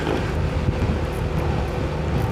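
Steady wind rumbles and buffets against the microphone, a continuous low roar with no pauses.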